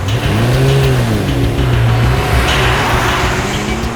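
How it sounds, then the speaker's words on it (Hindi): A car engine revs and accelerates as the car pulls away, loud and close, with the engine pitch rising and falling through gear changes. "चलो चलो वंश, श्वेता के घर गाड़ी लो।"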